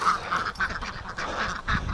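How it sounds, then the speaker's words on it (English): Ducks quack in a short burst of repeated calls by a lake in the morning, fairly close and moderately loud, with a few uneven pulses over a brief stretch. "We gotta get the ducks here."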